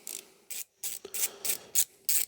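Ratchet undoing 8mm coil pack bolts on a Rover 75 engine, a close series of about seven sharp, even clicking bursts in a quick regular rhythm with brief gaps between strokes.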